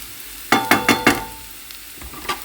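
Zucchini and tomatoes are pushed around a frying pan in a vegetarian home kitchen: four sharp, close utensil scrapes in quick succession, then a couple of softer ones over a faint sizzle.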